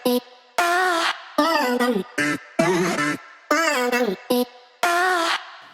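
A funky synth lead loop, chopped up and run through added effects, plays alone as a series of choppy, pitch-bending bursts in a stop-start rhythm with short gaps between them.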